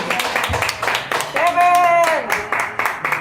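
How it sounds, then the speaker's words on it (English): Scattered audience clapping at a benefit concert, audible beneath talking and a brief sung or sustained tone, with individual claps standing out rather than a full ovation. "Give her a round of applause, please."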